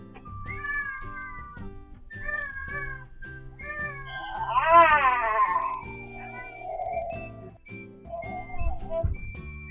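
A cat gives repeated drawn-out meows, some rising into a strained caterwaul-like wail, close and clear against a quiet room with faint low background rumble.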